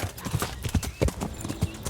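Horse hooves clatter in quick, uneven clip-clop beats in the medieval game Kingdom Come: Deliverance, close and fairly loud, with a brief whinny mixed in among the steps.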